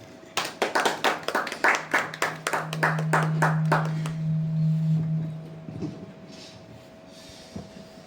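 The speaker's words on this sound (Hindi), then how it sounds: "ताली बजाइए।" An audience gives a short burst of hand clapping at a stage welcome ceremony, about a dozen rhythmic claps that fade out, with a sustained low tone running underneath and no speech.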